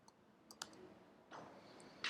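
Brief keyboard typing on a computer while writing Python code: a few sharp, quiet clicks scattered across the first moments, then a short burst of keystrokes and a louder final tap, close and alone.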